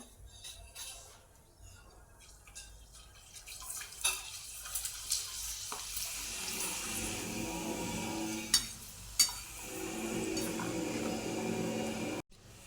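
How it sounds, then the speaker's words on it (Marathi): Rice flour papad frying in hot oil in a kadhai gives a steady, close sizzling hiss that builds gradually, with a couple of sharper crackles. "आता आपण पापड तळून घेऊया"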